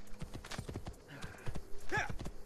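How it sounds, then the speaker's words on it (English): Hooves of a white horse clip-clop in the Assassin's Creed 2 video game, a steady run of close, distinct hoof strikes with a brief whinny partway through and faint game background sound. "Right, I'm here with my white horse."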